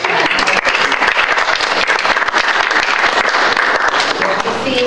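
A room full of people claps at a school board meeting: loud, dense applause that carries on steadily without any break.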